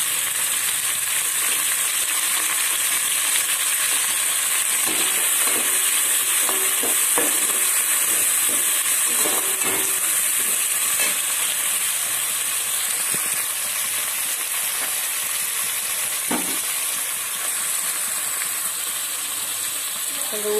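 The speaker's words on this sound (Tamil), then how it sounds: "வதக்கலாம் கொஞ்சம் நல்லா வதங்கட்டும்" Onions and tomatoes sizzle steadily in a hot pan, a constant loud frying hiss with occasional scraping and stirring sounds.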